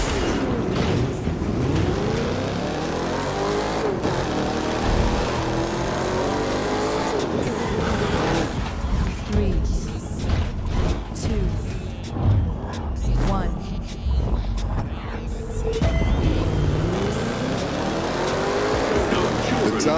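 Race cars in The Crew 2 on a closed course roar loudly and continuously, with engines revving and swooping past and tires squealing, and a voice talks over the racing for part of the stretch.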